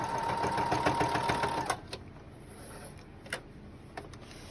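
A sewing machine stitches back and forth on a simple fabric book bag, whirring steadily up close for nearly two seconds before falling quiet, with a few soft clicks after.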